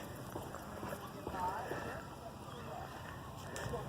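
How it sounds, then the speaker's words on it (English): Horses' hooves clip-clop faintly on a horse property in Orlando, Florida. The soft, uneven footfalls sit far off under outdoor wind noise, with possible faint voices in the background. "we actually have horses here on the horse property"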